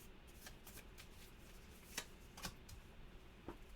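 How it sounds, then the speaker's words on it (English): Perk cards from the Horrified board game being shuffled on a tabletop during a solo game: faint, soft papery riffling with a few sharper card flicks standing out, close by, with no talking. "so we'll go ahead and shuffle those up"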